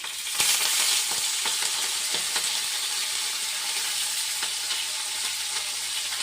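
Curry leaves crackling in hot oil for a dal tempering, a loud dense sizzle that flares at first then settles into a steady hiss with a few sharp pops and utensil taps, close up.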